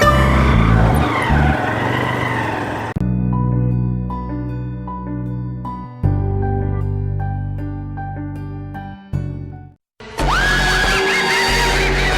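A vehicle engine starts up and revs loudly, then a steadier droning stretch with tonal bands follows before the engine roars and rises in pitch again near the end.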